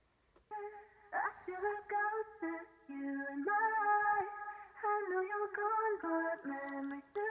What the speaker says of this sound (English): So I've got a quarter note delay. It's the Bucket Brigade mode, so it's sort of a dark delay.